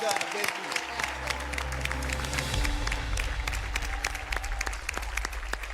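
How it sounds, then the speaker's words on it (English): A game show studio audience applauds steadily, with a low musical hum underneath and a voice speaking over the clapping. "Give him a round of applause."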